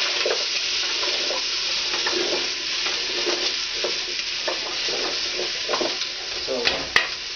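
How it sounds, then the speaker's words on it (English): Vegetables for cabbage soup sautéing in a pot make a steady, even sizzle, broken by soft scraping and clacking from stirring, with a couple of sharper knocks near the end. "Now you're gonna let these vegetables saute for about 5 minutes."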